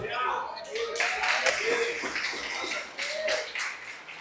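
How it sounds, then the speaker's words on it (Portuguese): A church congregation clapping in applause, a dense patter of hands rising and swelling for a few seconds, faint and somewhat distant, with voices mixed in. "Quem dá um aplauso ao Senhor Jesus?"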